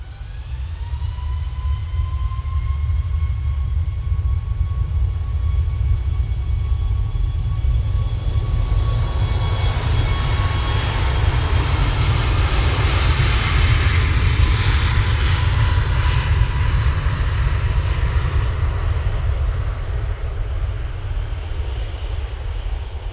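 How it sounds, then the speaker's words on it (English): A Ryanair airliner departs for Alicante at an airport, its jet engines roaring loudly with a deep rumble and a rising whine that swells into a broad blast and holds for over twenty seconds. "Ryanair, off to Alicante."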